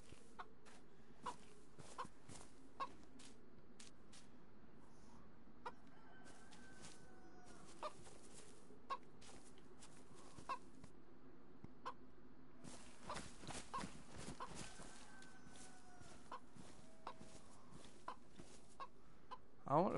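A chicken clucks repeatedly in the DayZ video game, short scattered clucks and occasional crowing-like calls over a steady outdoor ambient bed, moderately near.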